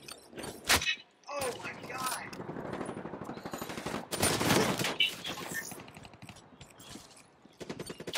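Rapid bursts of automatic gunfire in Call of Duty: Black Ops 3, loud and close, broken by short pauses and single sharp shots across the clip.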